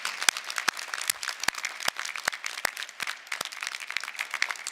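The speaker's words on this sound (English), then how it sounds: "Give them a round of applause." A commencement audience claps for graduates at a university evening ceremony, a steady wash of many hands with a few sharp, louder nearby claps standing out at irregular moments.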